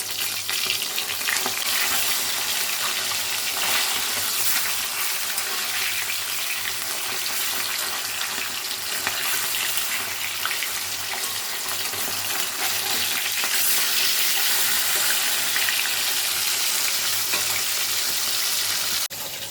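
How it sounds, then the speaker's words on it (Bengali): Katla fish frying in hot mustard oil in a pan, a loud, steady sizzle and crackle that runs continuously with no talk over it. "তেল গরম হয়ে গেছে মাছটা ভেজে নিচ্ছি"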